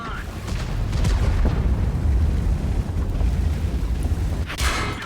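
A tank cannon fires in a World of Tanks battle, played from a T110E5 American heavy tank, as a loud booming blast with a rumbling low-end tail, then continuing battle noise and a second sharp burst near the end.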